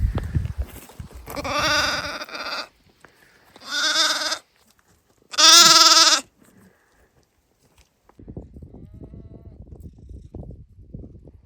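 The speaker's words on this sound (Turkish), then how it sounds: "Çünkü burada bir sürü kuzu var" Sheep and lambs on a farm let out three loud, drawn-out bleats close by, separated by quiet gaps, followed by faint rustling and shuffling.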